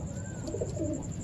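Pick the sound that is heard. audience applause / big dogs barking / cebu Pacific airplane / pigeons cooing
pigeons cooing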